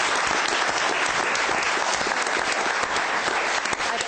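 Steady audience applause at a community drug and alcohol treatment program event, dense continuous clapping holding at even loudness throughout without pause.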